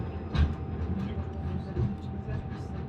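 A tram runs through snow in Russia at -30°, producing a steady low rumble and faint rail hum heard from inside, with a couple of soft thumps.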